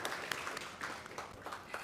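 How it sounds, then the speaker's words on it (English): Faint, distant applause rises from an audience at a languages and literature school event, a continuous soft patter of many hands clapping with no voices over it. "Let's give him another round of applause, please."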